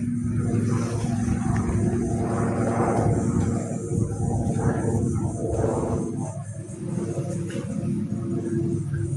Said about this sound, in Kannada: ಎಲ್ಲಿ ಹೋಗ್ತಾ ಇದೆ ನೋಡಿದರೆ ಹೆಲಿಕಾಪ್ಟರ್ ನೋಡಿ.